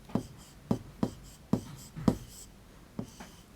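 Chalk or marker strokes tap and scrape across a board in a maths lesson, several short separate marks spaced irregularly, fairly close and quiet with no talk over them.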